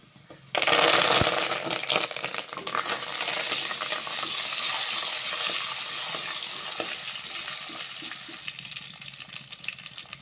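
Brinjal frying in sesame oil for kuzhambu bursts into a loud sizzle that continues as a dense crackling hiss with occasional sharp pops, close by and without talk.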